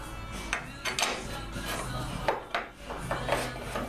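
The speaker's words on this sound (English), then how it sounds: "I've just run a file up this face" A metal file rasps in repeated short strokes against a Triumph Herald Vitesse steel body panel, each scrape rising and fading with brief pauses between.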